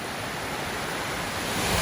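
Waterfall shooting straight out of a cliff in Geltenbach Canyon, heard as a steady, dense roar of rushing water, close and loud, with no voices.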